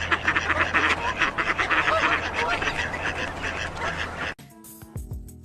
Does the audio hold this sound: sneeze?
no